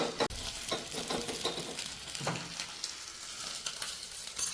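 Continuous hissing sizzle from a pan of tempering spices in oil, punctuated by stirring scrapes, fairly quiet and with no voices.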